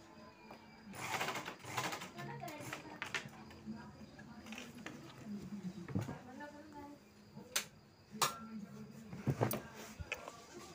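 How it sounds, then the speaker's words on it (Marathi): Sewing machine stitching blouse fabric, short bursts of fast mechanical clatter from close by, starting and stopping irregularly, with a voice talking between runs. "याला मस्त शिलाई मारून घेऊ."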